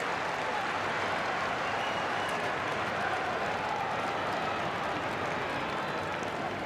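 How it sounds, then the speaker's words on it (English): Steady crowd roar at an AFL football match between Carlton and Fremantle, a continuous broad wash of cheering and noise without pauses. "Crowd starting to find voice"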